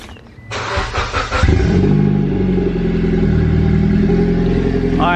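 Mitsubishi Lancer Evo X with a newly installed aftermarket exhaust cranks with a short clatter, then fires up loudly and settles into a deep, steady idle rumble close by.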